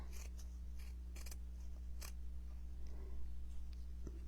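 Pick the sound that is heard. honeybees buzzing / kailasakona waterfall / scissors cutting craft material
scissors cutting craft material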